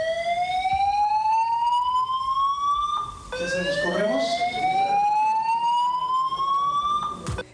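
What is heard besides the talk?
fire alarm siren during press conference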